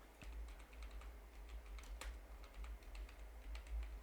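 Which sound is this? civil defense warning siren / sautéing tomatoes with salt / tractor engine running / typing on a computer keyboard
typing on a computer keyboard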